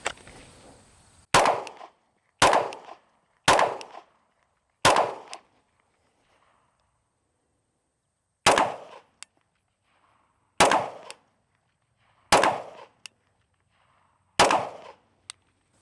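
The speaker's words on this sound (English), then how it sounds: "From the holster, you're gonna draw and fire 4 rounds from a standing position, drop to a kneeling position, and fire 4 more rounds" Eight handgun shots in an FBI qualification drill fired from the holster, four from standing then four kneeling after a pause, each a sharp loud crack with clear gaps between them.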